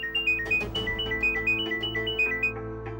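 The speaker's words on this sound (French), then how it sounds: "Le téléphone sonne." Telephone ringing in an Indian television drama, a steady repeating electronic ringtone melody pulsing in regular short bursts over a background music bed, no talk.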